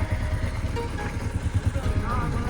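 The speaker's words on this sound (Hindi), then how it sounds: "अभी स्टार्ट हो गई है उनकी बाइक।" A motorbike engine runs at idle with a steady low chugging pulse close by, set outdoors at an old historical graveyard, while people talk over it.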